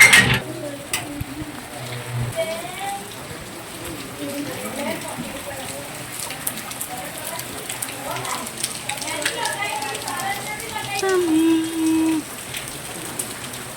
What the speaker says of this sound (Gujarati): ધોધમાર વરસાદ પણ વાગે છે